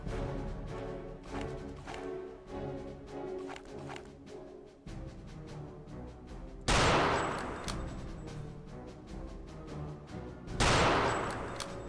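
Enemy gunfire in the video game Return to Castle Wolfenstein, rapid rattling volleys under a busy game soundscape, with two loud close bursts breaking out near the end.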